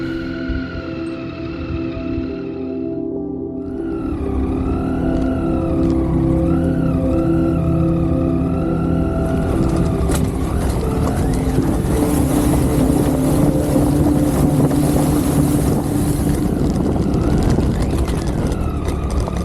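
Motorcycle ridden on a motocamping trip in southern Colorado and Utah, loaded with gear, its engine droning steadily as the throttle rises, then heavy wind rush builds and covers everything, loud and close.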